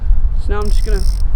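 Fishing reel drag from a cheap Walmart rod and reel, a short buzzing ratchet run under loud wind noise and a brief spoken voice.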